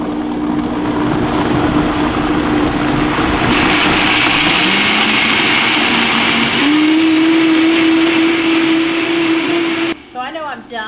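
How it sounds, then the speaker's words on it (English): A blender whirs loudly and steadily while blending cashews and dates into cashew milk, its motor pitch rising partway through before cutting off, followed by a brief voice. "So we're gonna put this on the blender,"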